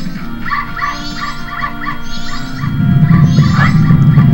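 Short bursts of yapping dogs in a Majora's Mask dog race video game, several barks close and loud over a rising low game rumble, no talk.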